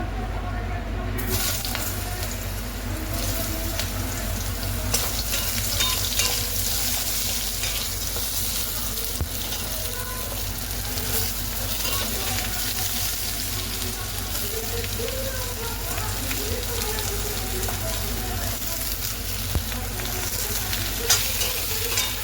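Ridge gourd fries and is stirred in a hot pan with nigella seeds for jhinge posto, making a steady, loud, close sizzle with scraping stir sounds throughout and no voices.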